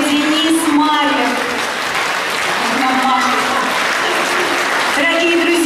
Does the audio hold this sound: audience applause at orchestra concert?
yes